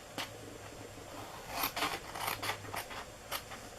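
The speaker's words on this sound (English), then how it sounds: "And then we're going to cut this other long one off." Scissors snip through paper while a gift box for a candle is cut out, a run of close, crisp cuts and rustles with no talking.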